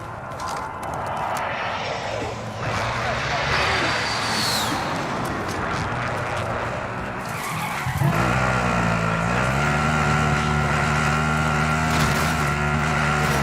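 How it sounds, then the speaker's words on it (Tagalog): A vehicle in Call of Duty Warzone skids with squealing tires, then its engine roars steadily and loud, close up with little talk. "There's a vehicle. I'm driving."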